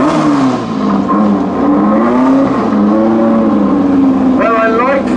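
Flat-four outlaw drag racing car at a European Bug-In doing a burnout, its engine holding a loud, raspy high-revving drone with wavering pitch, close and continuous for several seconds.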